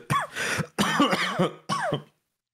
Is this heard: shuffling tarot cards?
no